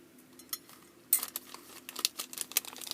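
Metal spoon clinking lightly against the packets and trays of a Kracie DIY waffle candy kit, a scatter of quiet close taps and small knocks at an uneven pace.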